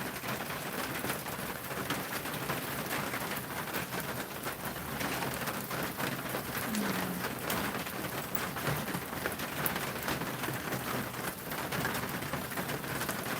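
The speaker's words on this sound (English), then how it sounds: "sounds like it's pouring rain" Heavy rain pours steadily onto the tin roof of an outdoor kitchen, a dense, even hiss of drops drumming without pause throughout.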